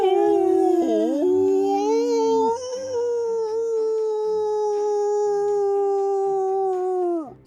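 Long, sustained dog howl from an animated movie, rising at first, then holding a steady wavering pitch for several seconds before trailing off, loud and close with no other sounds competing.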